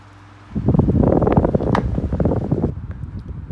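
A cleaned and serviced 2000s Lloytron 12-inch desk fan switches on and runs, blowing a steady, fluttering rush of air that swells and dips slightly as it oscillates, close to the microphone.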